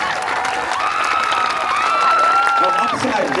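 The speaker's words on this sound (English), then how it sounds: "A big round of applause." A crowd at a high school marching band performance on a field applauds and cheers, with shouts rising over steady clapping and a voice speaking briefly.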